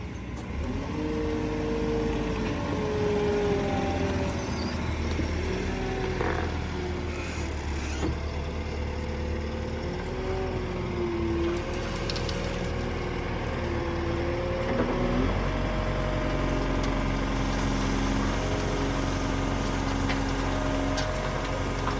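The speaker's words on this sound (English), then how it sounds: "Chip lorry in." A wood chip lorry is loaded at a forestry site where trees are being felled, its diesel engine droning steadily and loudly throughout, with shifting mechanical whines and tonal hum from the loading machinery layered over a constant low rumble.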